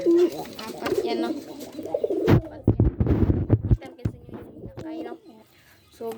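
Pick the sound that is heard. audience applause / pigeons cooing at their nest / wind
pigeons cooing at their nest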